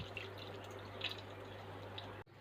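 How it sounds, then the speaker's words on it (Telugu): Salted water comes to a boil in a pot on a high flame, giving a steady low bubbling with small drips and pops, faint and close, with no one talking. "వాటర్ ఇలా మరుగుతుంది."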